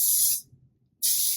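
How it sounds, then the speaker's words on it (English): Natural hairspray sprayed onto a section of hair before curling: two short, close hissing bursts with a brief silent gap between them. "I would typically spray the section with hairspray first."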